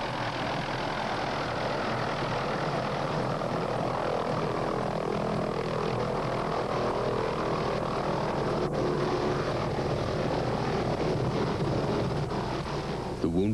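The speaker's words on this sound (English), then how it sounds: "At last, the medical evacuation helicopter arrives through the early morning mist." Hughes 500 medical evacuation helicopter arriving through early morning mist, a steady, loud engine and rotor drone that holds throughout without a break.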